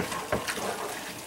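Water pours into a pot of potatoes in a brief, steady splashing gush, close and moderately loud.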